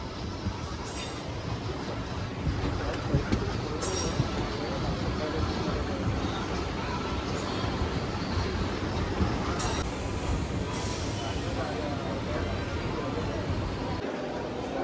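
MEMU passenger train 67283 pulling into platform 3 at Nidadavolu Junction, heard as a steady, moderately loud rumble of rail and carriage noise with faint clinks, no voices over it.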